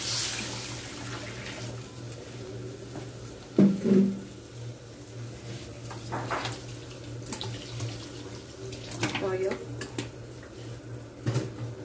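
Tap water runs into a pot to cook bihon rice noodles in a home kitchen, a splashing pour broken by clinks and knocks of cookware at close range.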